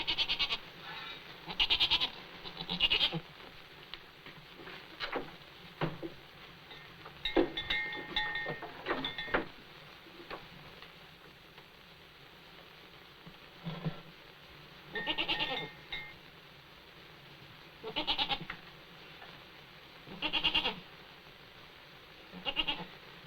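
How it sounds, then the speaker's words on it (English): A goat bleats several times in a 1930s Alpine farm setting, each cry short and wavering, spaced a few seconds apart over a quiet, slightly hissy background. "But I don't know how to milk a goat."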